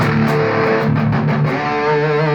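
Heavily distorted electric guitar through a Boss MS-3 effects switcher sustains a thick, buzzing chord, loud and dense throughout with no talking.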